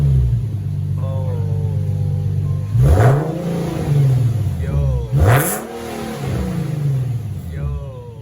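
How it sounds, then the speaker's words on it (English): A 2018 Nissan 370Z Nismo with mufflers removed: a low idle rumble broken by two sharp, loud revs that rise and fall, plus smaller throttle blips, with people talking over the engine. "We about to start the car with no muffler, y'all"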